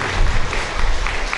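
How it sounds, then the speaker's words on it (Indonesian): Audience applause at an education workshop festival for a teacher program in Indragiri Hilir, a brief steady wash of hand clapping from a crowd indoors. "Tepuk tangan untuk Pak Bupati."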